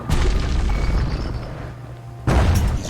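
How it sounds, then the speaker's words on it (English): A grenade blast in the video game Bastion, a deep booming explosion that rumbles and decays, followed by a second sharp burst near the end. "Oh, hand grenade."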